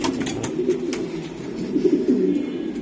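A racing pigeon coos nearby in a run of soft, low, throaty calls with a few faint clicks and rustles between them.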